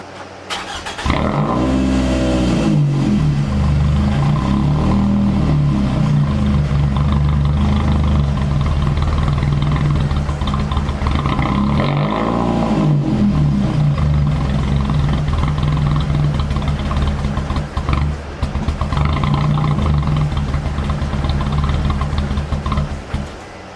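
A Scion tC with a lit check engine light starts up and struggles to idle, its engine loud and close, rumbling unevenly with repeated surges and dips in pitch as it labours to settle.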